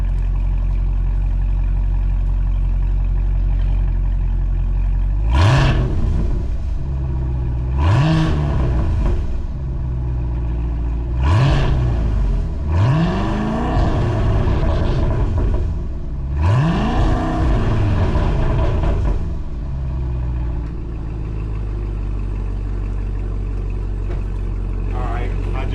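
A 2024 Cadillac CT5-V fitted with a Corsa Xtreme valved 3.0 cat-back exhaust revs four times in succession. The blips are loud, deep and close, each one rising and falling over a steady idle rumble.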